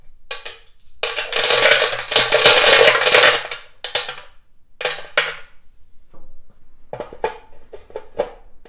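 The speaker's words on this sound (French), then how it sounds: "mettre un tas de vieilles visseries comme ça, donc des boulons, des écrous, tout et n'importe quoi dans le réservoir" Old bolts, nuts and assorted scrap hardware rattle and clatter inside a metal fuel tank of a machine being revived after 20 years idle, in loud bursts of shaking with short pauses and lighter jingling toward the end.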